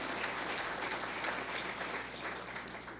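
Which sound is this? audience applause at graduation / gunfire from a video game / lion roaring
audience applause at graduation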